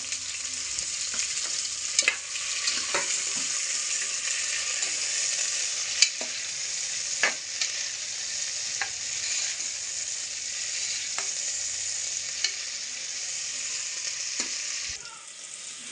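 Green chillies and onion fry in oil for a mutton curry, giving a steady close sizzle broken by occasional clinks of a stirring spoon, and the sound drops away just before the end.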